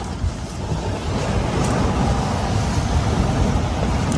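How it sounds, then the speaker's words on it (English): Strong wind buffets the microphone alongside surf rolling onto Yarmouth North Beach, a continuous loud roar with low rumbling gusts and no voices. "standing out in the wind's a bit rough"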